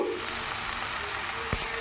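Broad beans fry in a pan with chilli and garlic masala, giving a steady soft sizzle throughout as they are tossed, with one brief louder scrape or toss near the end.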